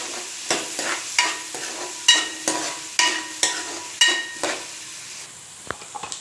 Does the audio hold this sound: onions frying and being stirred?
yes